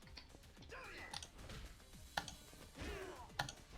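Computer keyboard keys and mouse buttons clicking during a Linux gaming session, a sparse run of quiet close taps and sharp clicks against low background noise, with faint voice sounds.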